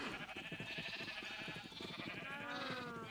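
Sheep in a farming video game bleat in overlapping wavering calls, several animals at once, fairly quiet against a steady background.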